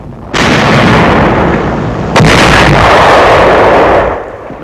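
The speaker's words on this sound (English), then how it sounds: "A tank of the 2nd Armored Division opens fire." A 2nd Armored Division tank gun fires during a WWII Rhine crossing in 1945, giving a loud, close blast with a sustained rumbling roar, then a second sharp boom about two seconds later that rolls on before cutting off.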